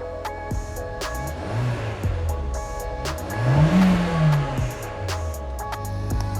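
A car engine at an Australian car auction is revved repeatedly, climbing and falling in two or three swells with some clicks and knocks around it. The sound is close and moderately loud, with no talk.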